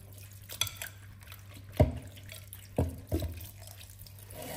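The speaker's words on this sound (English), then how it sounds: "you can give them a good rinse and wash them down" Vegetables being rinsed and washed under running water in a sink, faint water trickle with several splashy knocks and clunks at irregular intervals, quiet and close.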